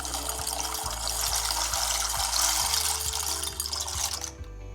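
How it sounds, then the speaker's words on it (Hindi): Pasta tipped into a pot of water with two teaspoons of oil for white sauce pasta, a steady rushing, splashy watery noise under a faint repeating low hum, stopping abruptly near the end. "अब मैं इसमें पास्ता डाल दूंगी।"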